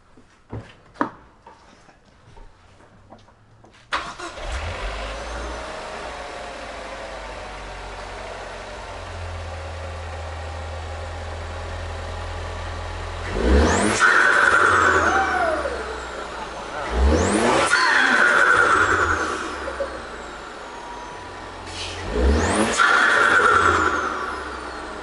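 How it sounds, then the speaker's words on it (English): A Ford Focus ST engine with a Mishimoto intake starts and idles, then revs hard three times, each rise bringing a whistling turbo spool and a sharp release, close and loud. "You guys ready for the turbo noises?"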